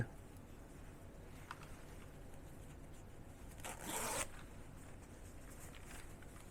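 A single short zipper pull on a pocket of Decathlon trail running pants, a brief rasping zip standing out from an otherwise quiet room.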